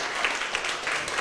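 A studio audience on a morning talk show claps steadily as a guest walks on, a dense, even wash of applause that fills the whole short moment.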